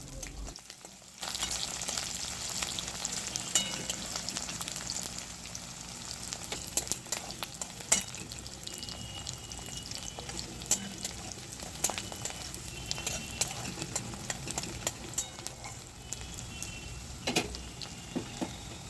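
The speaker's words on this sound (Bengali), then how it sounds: "পেঁয়াজটা হালকা একটু ভেজে নিতে হবে" Chopped onions lightly frying in oil in a pan for a jackfruit curry, a continuous soft sizzle with frequent faint crackles and pops, steady throughout with no talking.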